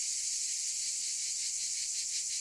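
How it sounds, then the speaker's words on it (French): Cicadas sing at an apiary in midsummer heat of about 37 to 39 degrees. Their dense, high, unbroken buzzing drone holds at a steady level with no other sounds. "Donc là, je suis sur un rucher avec des cigales."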